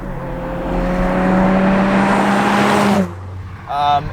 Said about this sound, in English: this feels a lot more like a drift car, just straight out of the box immediately